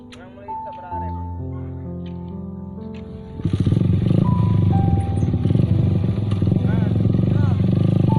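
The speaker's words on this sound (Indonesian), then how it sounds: "Aing motor anyar ieu." A new motorcycle engine, part of a Sundanese drama episode, roars up loud and close after about three seconds of steady tonal sounds, then runs continuously with a rough, busy rumble to the end.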